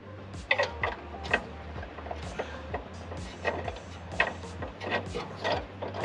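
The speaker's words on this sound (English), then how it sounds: "I'm gonna try and thread in the bolt" A bolt threaded into a nut on a Mazda MX5, with close metallic clicks and rapid ratcheting bursts at an uneven pace, plus small knocks against the car's metal.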